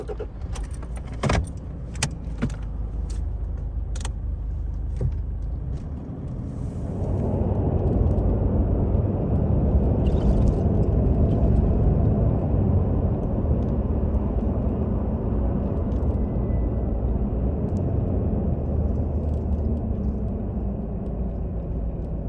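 Car driving at night along a big straight desert road: a few jangling metallic clicks at first, then a steady engine and road rumble that holds loud and even to the end.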